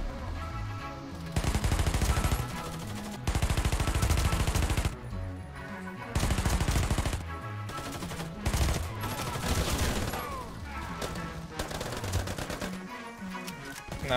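Bursts of rapid automatic gunfire from a Taurus CT9 G2 rifle in the shooter game Warface, several loud sustained volleys with brief pauses between them and no talking.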